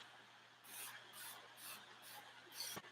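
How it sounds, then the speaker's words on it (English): Aloe vera juice misted onto hair from a spray bottle: five quick, soft hissing bursts in a steady rhythm, close and quiet over a faint background hum, ending with a small knock. "I'm gonna start by spraying my hair with some aloe vera juice from this bottle."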